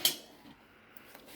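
A fork lifted out of a mixing bowl gives one sharp metallic clink at the start, followed by faint handling sounds, quiet and close.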